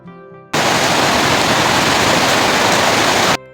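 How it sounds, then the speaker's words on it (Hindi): Large waterfalls at Kalpeshwar Mahadev in Uttarakhand roar as a loud, steady broadband rush of falling water, close and continuous with no voices. "इतने बड़े बड़े झरने, 2 बड़े बड़े झरने आपका स्वागत करते हैं कल्पेश्वर महादेव पे"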